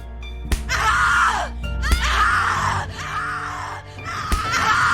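A woman in The Cat Lady video game screams loudly and repeatedly, in long anguished wails broken by sharp impact hits and gasps, close and intense throughout.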